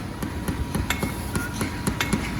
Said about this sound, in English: See, he's smashing that hammer shutoff valve closed.